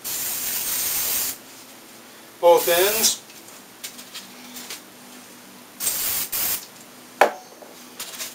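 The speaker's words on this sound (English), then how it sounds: "I'm going to spray the both templates," Several short hissing bursts from an aerosol can of 3M 77 spray adhesive, with a person talking between sprays.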